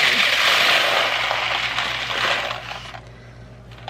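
A rattling cascade of small hard dried beans poured into a foil-lined pie crust, a dense clatter for about three seconds that thins out and stops.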